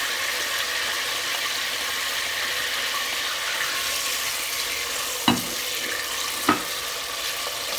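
Sliced onion fries in hot oil while oil rice with salted beef is cooked, a steady close sizzle throughout. Two sharp knocks of a utensil against the pot break it near the end, with no talking.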